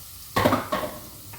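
Onions stirred in a hot pan while cooking a vegan tandoori pasta, two close scraping, sizzling strokes a moment apart, with a fainter third at the end.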